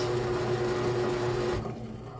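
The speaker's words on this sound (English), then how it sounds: "See that little agitator is moving everything around." Bread machine kneading garlic bread dough, a steady mechanical whir and hum of the motor driving the agitator, continuous and close, then dropping off near the end.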